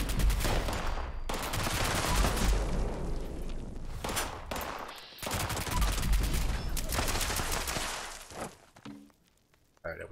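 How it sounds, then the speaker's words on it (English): Gunfire in Fallout 76 rattles in dense rapid bursts, loud and close, broken by short pauses, with a player talking over it. "Stop shooting at me."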